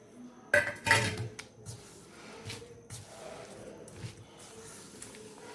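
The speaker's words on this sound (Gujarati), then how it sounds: "અને હવે આપણે અહીંયા મરચાં પણ મિક્સ કરી દઈશું" Red chilies are stirred into soft tinned jaggery in a steel bowl, with two loud clanks of a spoon on metal at the start followed by softer, irregular sticky squishes and light scraping.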